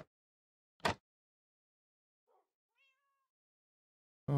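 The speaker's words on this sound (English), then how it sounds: "That's a cat." A cat in Minecraft gives a short, faint, high meow amid near silence, bracketed by a couple of abrupt louder game sounds at the start and end.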